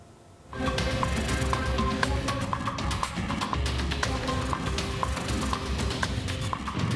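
A runaway sacrificial cow loose on a street in Tebet, South Jakarta, its hooves clattering on the pavement in a steady, close, loud run that lasts the whole time.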